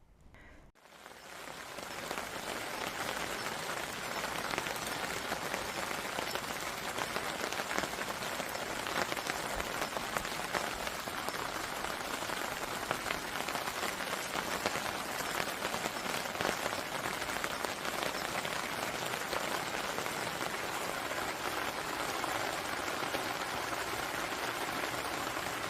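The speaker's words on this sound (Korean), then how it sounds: "잠깐 빗소리 듣고 가시죠." Steady rain patters on a camping tarp pitched in a countryside yard, a dense continuous hiss of drops that sets in within the first second and holds evenly throughout, with no voices.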